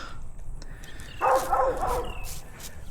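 Guard dogs bark from behind a fence some distance away. A short burst of barks rises faintly over a steady outdoor background.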